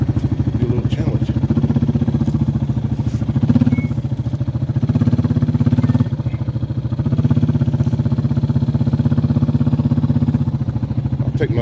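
A four-wheeler ATV engine runs steadily and loudly up close throughout, a low chugging drone with slight swells in revving, while moving hay line near a homemade hay unroller.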